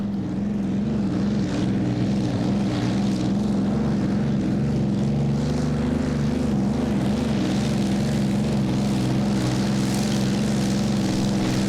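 Tractor-pulling machine powered by a Sturmovik fighter-plane engine, roaring loud and steady with a deep droning, rippling tone throughout the run at a Danish championship event in Allingabro.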